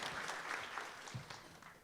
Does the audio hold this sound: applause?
yes